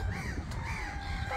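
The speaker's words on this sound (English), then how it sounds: "The birds are so noisy." Crows caw outdoors in nature, a couple of harsh, nasal calls ringing out close and clear over a steady low background rumble.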